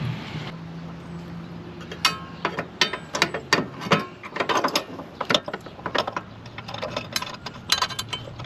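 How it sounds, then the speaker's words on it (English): C-clamps being fitted and tightened during a Bal Hide a Spare installation, heard up close as a run of metallic clanks, clicks and ratcheting turns in uneven bursts, with no talk. "So I'm going to put the C-clamps on now."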